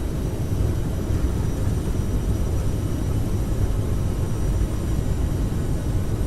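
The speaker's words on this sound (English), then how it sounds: "Takeoff power set. Airspeed's rolling." Jet engines of a CRJ700 on its takeoff roll in a flight simulator, a steady, loud low rumble with broadband roar and no talk.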